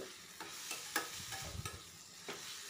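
Spice paste fries in oil with a spoonful of cumin powder for a spicy crab dish, a soft continuous sizzle with several light scraping stirs of a spatula, faint and close.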